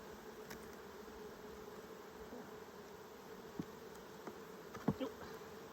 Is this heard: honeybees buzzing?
yes